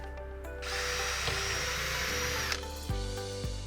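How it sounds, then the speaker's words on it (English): A power drill whirs steadily through a length of pine for a couple of seconds, then winds down, followed by a few light knocks and clunks close by. "drill a hole in the center of all 4 pieces"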